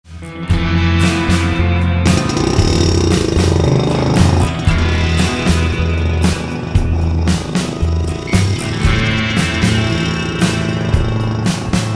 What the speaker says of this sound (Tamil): விண்டேஜ் பைக்ஸ், கிளாசிக் பைக்ஸ், அதோட சவுண்டை கேட்கும் போதே நமக்கு பயங்கர ஆர்வமாக இருக்குது.